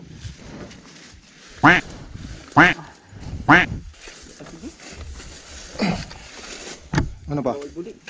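A person's voice imitates a duck with three evenly spaced, nasal quacks up close, then goes on with more chatter and vocal noises.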